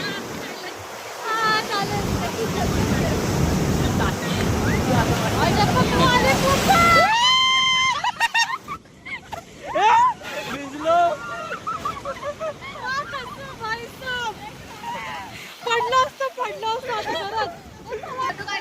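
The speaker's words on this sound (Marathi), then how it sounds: "मोठी लाट आली बा एकदम" Ocean surf at Harihareshwar beach on the Konkan coast rushes in as a loud, continuous broadband wash for about seven seconds. Wind buffets the microphone, and voices chatter and exclaim afterward as the water recedes.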